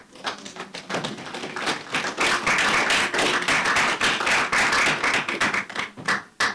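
An audience at an African climate change negotiators' meeting in Zanzibar claps together, a dense, rapid patter of many hands that swells and holds steady for several seconds before thinning out.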